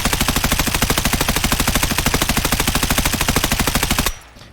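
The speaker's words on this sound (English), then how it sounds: "Make sure she's on full auto." Sustained full-auto burst from an M4 rifle in Escape from Tarkov, rapid evenly spaced shots for about four seconds, loud and close, cutting off abruptly with no talk.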